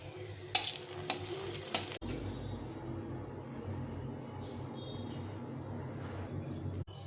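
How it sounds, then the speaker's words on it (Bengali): Two dried red chillies frying in hot oil in a wok, a steady low crackling sizzle after a few sharp clinks of utensils at the start, close by with no talk. "এখানে কড়াইতে তেল গরম করে দিয়েছি, তো এখানে প্রথমে শুকনো লঙ্কা দুটো ভেজে নেব।"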